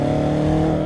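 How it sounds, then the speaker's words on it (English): A 650 hp BMW F10 M5 with a 4.4L twin-turbo V8 sends out a deep, steady exhaust drone at close range, loud and even for a brief moment. "Really good exhaust noise too when you let off the throttle."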